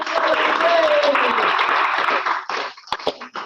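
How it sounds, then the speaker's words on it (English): Audience applause and cheering for a stand-up comedian at a late-night sketch comedy festival, a dense loud wash of clapping for about two and a half seconds that then thins into scattered claps and voices. "So go and give a warm applause for our first stand-up comedian"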